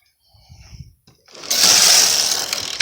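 SK150/SK155 knitting machine carriage slides across the bed while short rowing, a brief soft clicking start followed by a loud sustained hissing, whirring sweep of the carriage, close by with no talking.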